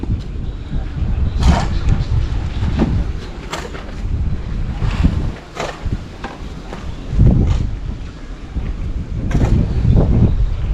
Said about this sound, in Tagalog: ngayong hapon medyo mahangin na